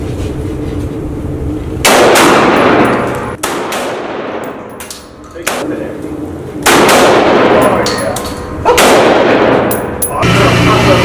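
Gunshots fired at a shooting range: several loud, close, sharp blasts spaced a couple of seconds apart, each ringing out with a long decaying tail.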